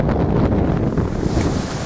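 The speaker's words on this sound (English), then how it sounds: "it's a little windy out here today." Heavy wind buffets the microphone, a constant low rumbling roar with gusty fluctuations throughout, no voices.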